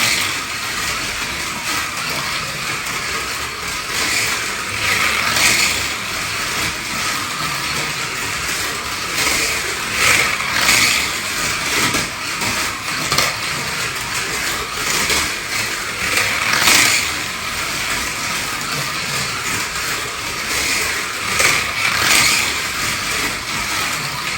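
A REVOSLOT Porsche GT1 slot car runs continuously along its track with a steady whirring electric motor hum, pulsing slightly as it passes, loud and close with no talk.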